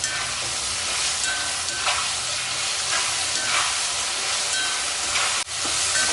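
Onion and tomato sauté with salt in a pan for a Chettinad-style brinjal kuzhambu, giving a continuous close, loud sizzling hiss with faint stirring and a brief clank near the end.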